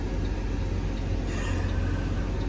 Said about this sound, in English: He started moving the truck again